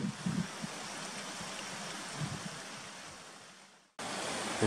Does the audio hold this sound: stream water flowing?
yes